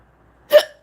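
A single short, sharp hiccup bursts out alone against near silence.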